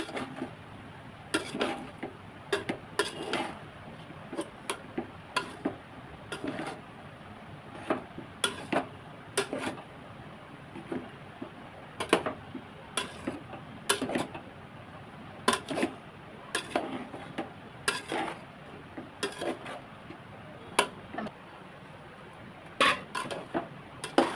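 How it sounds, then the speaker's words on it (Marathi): Metal spatula scraping and knocking against a pan while chicken and egg fried rice is stirred and mixed, giving a steady run of sharp, close clinks and scrapes at an irregular beat with no voices. "तांदूळ घालून देते आता व्यवस्थित मिक्स करून घ्यायचे सर्व"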